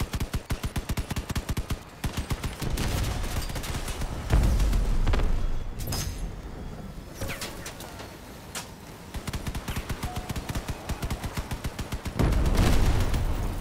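Cannon fire in the vehicle combat game Crossout, with rhythmic bursts of rapid clattering shots broken by a few heavier booming blasts and engine and battle noise in between, no talking.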